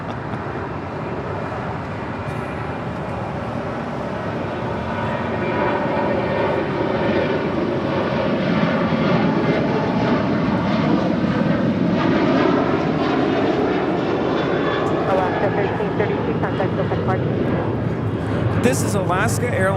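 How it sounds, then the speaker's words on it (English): An Alaska Airlines Boeing 737-800 in special livery takes off from LAX, its jet roar swelling with a rising, sweeping engine whine that holds loud and close to the end. "This is Alaska Airlines Flight 1332 departing to Loretto on a 737-800 in the Hot Kawani livery"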